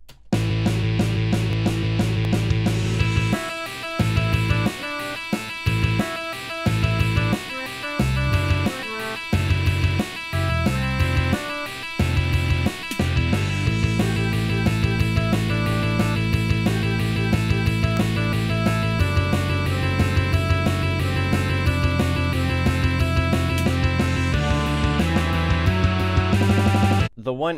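Rock song playing the full second verse, with dense band instrumentation, sung vocals and steady rhythmic drum hits running continuously and loud throughout.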